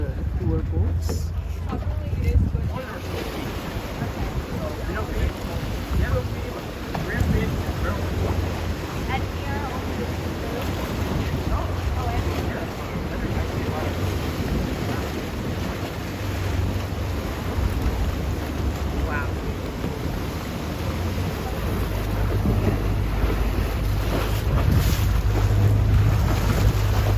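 Tour boats cruise near Islas Marietas in Nayarit, Mexico, with a steady low motor drone under heavy wind buffeting and waves across the whole stretch, while people talk over it.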